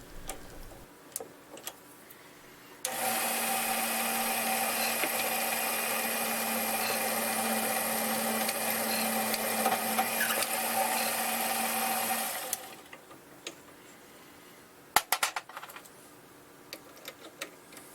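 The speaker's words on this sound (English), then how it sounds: "Now we're going to switch from the center drill to a drill bit." A center drill boring into a small brass part for a scale balance beam on a lathe or drill press gives a steady, loud whirring drone for about ten seconds. Quiet clicks and handling noises come before it and after it.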